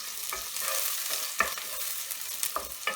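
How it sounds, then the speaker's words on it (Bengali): Onion frying in a pan for a prawn and mushroom noodle dish, with a soft steady sizzle and several brief scraping stirs of a spatula spaced across the moment, no talk. "পেঁয়াজটা মোটামুটি একটু ভাজা ভাজা করব"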